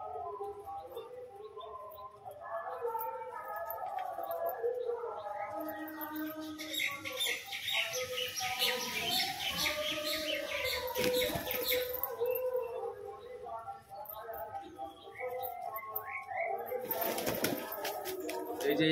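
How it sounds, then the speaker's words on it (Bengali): Pigeons gather one by one in a loft at feeding time, their soft cooing and chirps continuing throughout at moderate distance, joined by brief flutters and knocks, with a quiet voice in the background. "এখানে এক এক করে সব পায়রা চলে আসছে"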